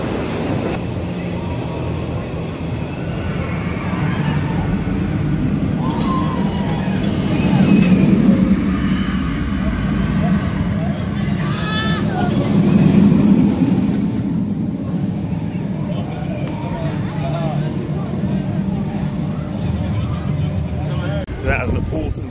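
Ride aboard the Demon roller coaster at Heide Park, taken from the front row: a steady loud rumble of wind and track noise that swells in two surges of rushing air, with riders' voices faintly mixed in.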